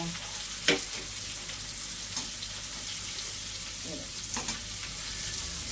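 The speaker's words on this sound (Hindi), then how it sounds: "अच्छे से भून लूँगी ताकि लहसुन का जो है वो कच्चापन जो है, स्मेल जो है वो चली जाए इसमें से" Garlic sizzling steadily in hot oil in a home kitchen pan, a soft continuous frying hiss with a few brief stirring clinks, no talk.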